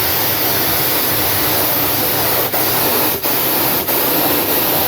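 An HVLP gravity-feed paint spray gun hisses continuously at raised air pressure, a loud close broadband spray with a few brief dips as the trigger flow shifts.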